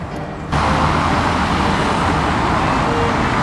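Steady road traffic in Kiev, Ukraine, a continuous broadband roar of passing cars and vehicles that swells abruptly after a brief quieter start and holds at a fairly loud, unbroken level.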